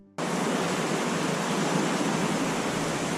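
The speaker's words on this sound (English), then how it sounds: "The sound within this cave is almost like a melody that could be sweet and also scary from waves crashing against the walls" Waves surge and crash against the basalt walls inside Fingal's Cave, a dense, steady roar of broadband water noise that starts abruptly and fills the whole clip with no voices.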